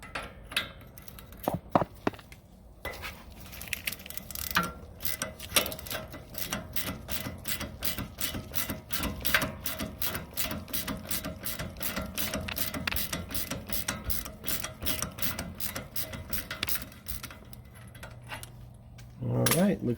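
A ratcheting wrench turns the ball joint stud nut on a Toyota 4Runner during a delta joint replacement, rapid metallic clicks running steadily for many seconds, close and fairly loud, with a few heavier clanks at the start and end.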